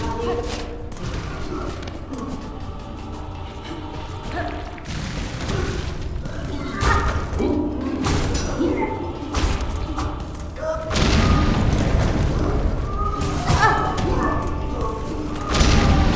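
Heavy booming explosion and scattered thuds and crashes in the Hollow Knight: Silksong video game, loud and dense, swelling midway amid continuous game action.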